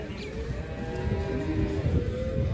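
A cow that has calved five times gives a long, low, drawn-out moo at a livestock market near Taraz, heard close against a busy murmur of market noise.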